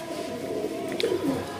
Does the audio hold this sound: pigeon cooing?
yes